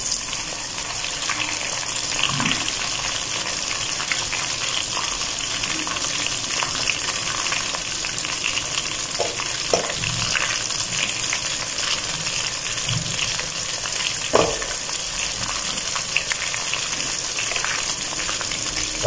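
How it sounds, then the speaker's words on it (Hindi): Tomatoes hit a pan of half-browned onions and fry with a loud, steady sizzle, broken by occasional stirring clunks and scrapes, with no voices. "अभी हम डाल देते हैं प्यारे प्यारे टमाटर"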